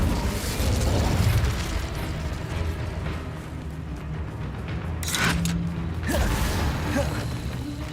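Incendio fire spell cast in the Hogwarts Legacy video game, a sharp crackling burst of flame amid ongoing mechanical creaks and low rumbling game ambience, close and moderately loud.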